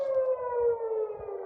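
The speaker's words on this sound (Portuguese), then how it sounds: "as sirenes voltaram a tocar em Jerusalém e na região do Mar Morto" Civil defense air raid siren wailing over Jerusalem, a steady loud tone gliding slowly downward, heard alone without voices.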